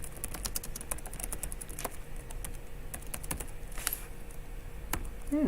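Fast, irregular clicking of keys on a computer keyboard, close and crisp, with a few louder key strikes mixed into the steady patter and no talking.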